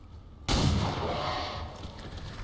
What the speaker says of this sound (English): Fawn can pistol shot this guy.